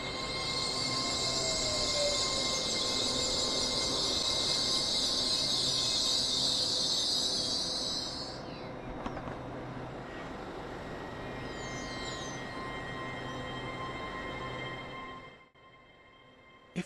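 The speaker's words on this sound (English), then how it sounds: "This train consists of Azuma number 801213, another 9-coach electric multiple unit." An LNER Azuma 801213, a nine-coach Hitachi electric multiple unit, passes through Alnmouth station with a loud, steady rushing rumble and hiss that eases partway through, then cuts away sharply near the end.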